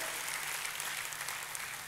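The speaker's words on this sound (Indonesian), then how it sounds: "Tepuk tangannya yang paling meriah buat Tuhan kita." A church congregation claps together in steady, dense applause that fills the room at an even level from start to finish, with no speech over it.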